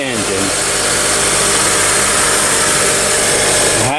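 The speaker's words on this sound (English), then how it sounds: "So there's the engine." A 2005 Honda Element's engine idles steadily, a loud, continuous close-up rumble with a constant mechanical hum and no change in pitch throughout.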